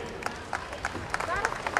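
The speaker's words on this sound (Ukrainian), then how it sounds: "Ваші оплески" A festival crowd applauds at the opening ceremony as an official is called to the stage. Steady, evenly spaced claps sit under an ongoing voice through the short stretch.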